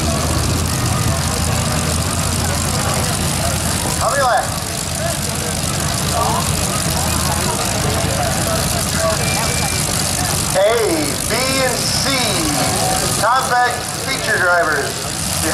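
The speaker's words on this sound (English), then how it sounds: "10 laps, both sides, bump and run racing, V8 powered" V8-powered rear-wheel-drive cars idle and rev at a county bump and run race, engines droning loudly and continuously in an open-air setting, with a voice over a loudspeaker intermittently audible above the noise.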